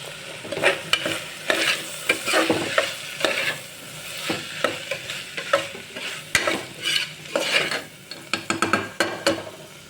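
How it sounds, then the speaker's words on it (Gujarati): Masala rice spices are stirred in a pressure cooker, a spoon scraping and clattering against the metal in repeated close strokes over a soft sizzle, with no talk. "હવે આપણે બધું મિક્સ કરશું"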